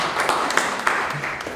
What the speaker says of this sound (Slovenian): Dajmo še en aplavz za Spirit,